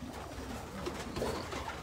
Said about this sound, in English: Nice birds, Frank.